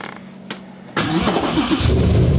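A Nissan S13 240SX fitted with a 1JZ engine cranks briefly, then catches and fires up, settling into a loud, steady running rumble up close.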